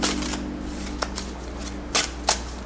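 Tarot cards being shuffled in a quiet room, a soft continuous riffle with a few sharper card snaps standing out near the end, close and moderately quiet over a low steady hum.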